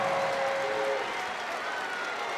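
Crowd at a college wrestling dual meet between Virginia Tech and Bucknell cheering and applauding after a takedown, a steady roar of the arena, with a commentator's voice audible briefly at the start.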